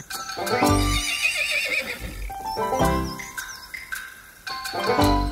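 A young horse neighs as a story sound effect, with clattering hoofbeats and whinnies repeating in short bursts, loud and close, over faint crickets and chirping birds.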